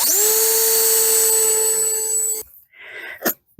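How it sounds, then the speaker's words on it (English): A power drill whines at a steady high pitch for a couple of seconds while drilling holes in recycled wood, then cuts out, followed by a few faint knocks and a sharp tap. "So what we're going to do is drill some holes out here, and on dead center here."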